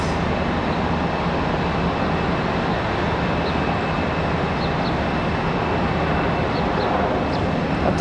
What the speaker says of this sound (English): Looks like an E175 out at the end of the runway,